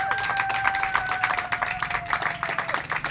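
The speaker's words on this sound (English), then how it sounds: "How about a round of applause for Matt?" A live audience at Huggos on the Rocks in Kona applauds a guest, dense steady clapping filling the space for a few seconds, with a faint whistle-like tone drifting over it.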